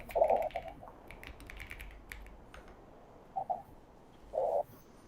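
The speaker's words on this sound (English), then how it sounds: "So I am typing an example here." Keys tapped on a computer keyboard during a live coding session, scattered soft clicks with a few louder clustered bursts, close and alone without talk.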